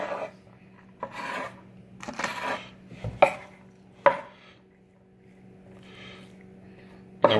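Minced garlic and ginger being mixed in a bowl, a series of scattered scraping and rubbing strokes with a few sharp clinks, close and fairly quiet between the bursts.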